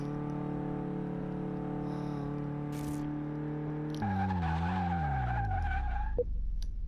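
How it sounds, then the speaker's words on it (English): In the game Car Mechanic Simulator, a steady engine drone gives way to a long tire skid from bad brakes that slides downward in pitch before cutting off, loud and close. "You can literally hear it sliding."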